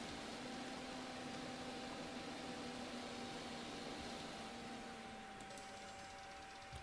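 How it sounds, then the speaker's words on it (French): Engine of a Farming Simulator 19 7 TTV tractor, a steady whiny hum that sounds like a vacuum cleaner, low and unbroken throughout, with a brief faint clatter near the end. "le 7 TTV il est bien, mais il a un bruit d'aspirateur"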